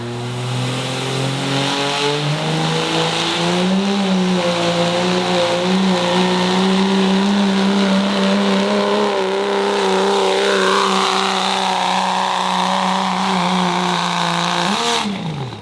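A VP44-equipped diesel pickup truck in a street-class truck pull at Plain City roars under sustained load, its engine note climbing steadily and loud throughout before dropping off sharply at the end.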